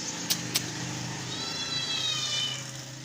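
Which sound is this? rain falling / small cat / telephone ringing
small cat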